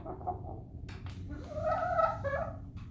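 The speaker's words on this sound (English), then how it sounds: "I do love all of their little chicken noises." Soft clucking and burbling from a few chickens close by, with low rumbling background noise throughout.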